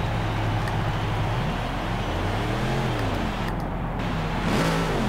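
An Audi R8 in the video game Forza Horizon 3 revs its engine, a loud, steady synthetic engine drone with rising and falling pitch sweeps over about five seconds, heard alone without talk.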